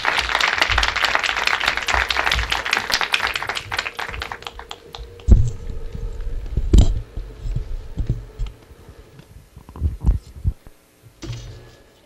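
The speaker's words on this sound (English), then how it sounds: "we would love to give her a round of applause" Audience applause for a speaker at a talk on the women's rights movement, a burst of crowd clapping that thins out into scattered claps and then a few isolated taps.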